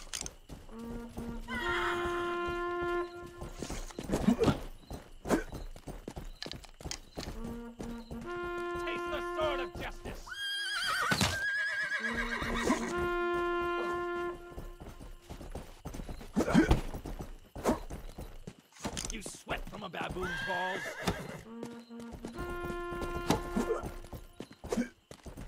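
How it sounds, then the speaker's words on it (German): Horse hooves clip-clop and repeated neighs and whinnies in the Western video game Rustler, set against layered game music, with someone talking intermittently over the scene. "Ich bin ein Pferd."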